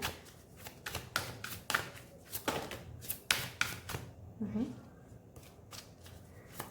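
Tarot cards shuffled by hand during a reading, producing rapid riffling bursts and soft taps close up, with a brief murmur of a voice partway through.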